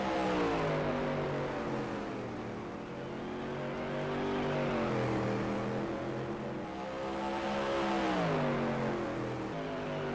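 Supermodified race car engines in NASCAR Heat sim racing at Sandusky Speedway, a loud continuous howling roar with pitch that sweeps down and back up in waves as cars lap, with no talk.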